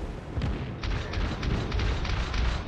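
Battleship guns firing in a naval battle video game, including the Fuso, heard as a dense, continuous rumble of deep booms and overlapping blasts, loud and sustained throughout.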